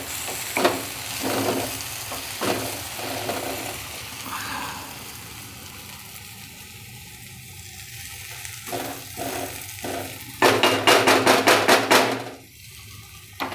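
Onion and pea kachori filling stirred and mixed in a pan, with scraping spoon strokes and light sizzling, rising to a louder burst of rhythmic scraping near the end.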